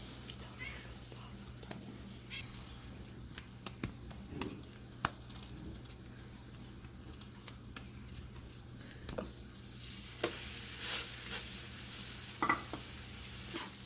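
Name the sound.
pupusas sizzling in oil on the grill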